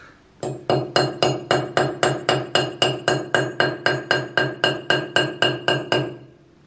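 A hammer strikes a nail into a wall that hits stone, producing about sixteen sharp, evenly spaced metallic clinks in a steady rhythm, close and fairly loud, then stopping.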